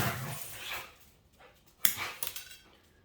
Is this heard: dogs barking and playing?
yes